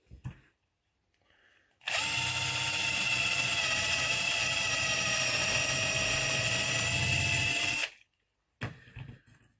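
A cordless drill bores a dowel hole in wood, starting abruptly with a loud, steady high-pitched whine that runs about six seconds before cutting off, followed by brief faint handling noises.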